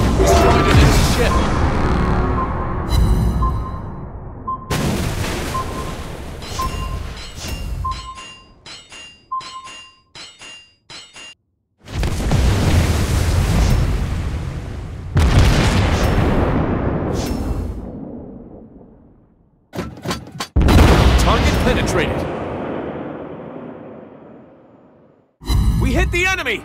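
Naval guns and shell explosions in World of Warships Blitz, a Soviet tier 5 battleship battle, with loud repeated booming blasts, crashes and ringing game alerts in bursts separated by brief silences, under announcer-style voice callouts.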